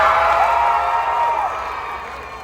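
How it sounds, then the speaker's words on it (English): A convention crowd at Animate! Raleigh cheers in a loud, sustained roar of mixed voices and whoops that slowly fades. "Give us a good cheer."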